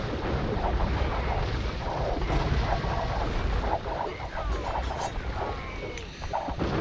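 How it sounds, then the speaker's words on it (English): Bombard cannons in an Age of Empires match fire a steady barrage, a dense low rumble of blasts mixed with scattered battle clatter, loud and continuous throughout with no talking. "the bombard cannons are flattening"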